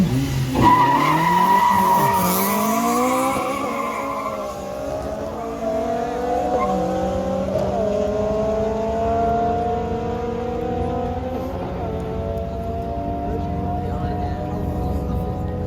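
Race cars run the final heat of a class race in Ingushetia, with tires squealing and skidding over loud, rising and falling engine whine, and a voice faintly behind them.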